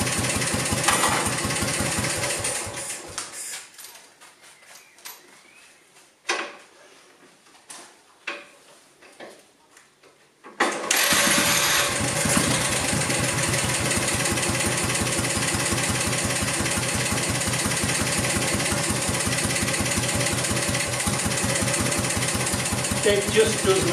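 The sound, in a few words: Moto Guzzi Falcone motorcycle kickstarted and idling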